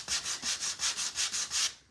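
Sandpaper is rubbed back and forth on a wooden scarecrow craft piece, about eight even, rhythmic rasping strokes heard up close with no talking.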